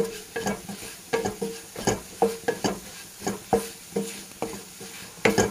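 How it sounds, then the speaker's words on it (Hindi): Spices roasting in a pan for Sindhi green moong dal, with a spoon scraping and stirring in a regular rhythm of roughly two strokes per second over a soft sizzle, close up and without any talking. "अभी हमारे मसाले अच्छे से भुन जाएं।"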